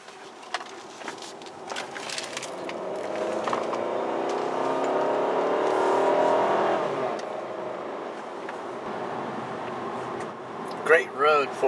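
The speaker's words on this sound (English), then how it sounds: "in sport mode it really swallows it up quickly. Makes the right noise too." A VW Jetta 1.8T engine revs in sport mode, its steady drone swelling to a peak around the middle before easing off, with a voice talking over much of it.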